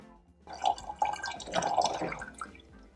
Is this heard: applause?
no